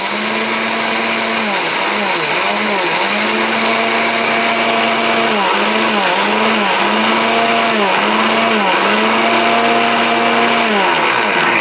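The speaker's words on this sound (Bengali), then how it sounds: "1600 ওয়াটের একটা পাওয়ারফুল মিক্সার গ্রাইন্ডার" A powerful 1600-watt mixer grinder blender with a steel bush runs loud and close for about twelve seconds. Its motor whine holds steady, then dips and recovers in pitch several times as the load shifts.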